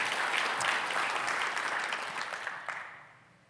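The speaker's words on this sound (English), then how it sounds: "how about giving Connexus another round of applause?" Conference audience applauds during a kickoff and welcome session, a dense wash of many hands clapping that holds steady and then fades away toward the end, with no talk over it.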